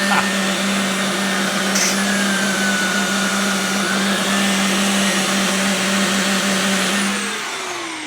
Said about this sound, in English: it was going as the turbo tool put a load on the machine